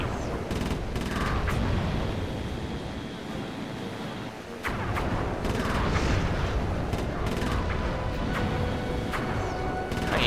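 Rapid bursts of video-game gunfire from Sly 3 fill the scene as guided missiles are shot down, a dense, continuous fusillade with sharp cracks and booms throughout, loud and close.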